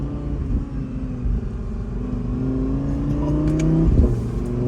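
Audi RS6 Avant engine pulling under acceleration, a loud, steady rumbling drone with rising harmonics that swells and peaks near the end, no talk.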